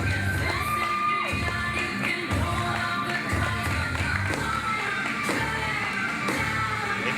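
Wrestling crowd at an independent event cheering and shouting loudly as entrance music plays, with rhythmic thumps and whoops filling the arena throughout.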